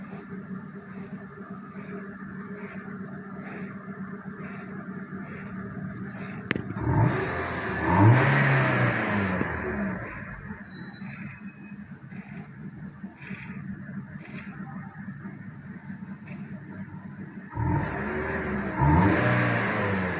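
A Kia Rio with an ECU fault idles roughly, then its engine revs up in a couple of loud bursts and settles back, heard close and alone.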